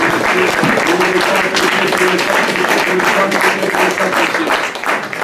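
A church congregation applauding, loud sustained clapping from a large crowd that continues without a break.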